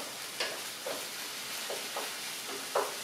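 Ground turkey and onion browning in a pan, with a soft steady sizzle and several light scrapes from stirring, quiet and with no voices.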